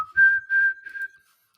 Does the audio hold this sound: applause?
no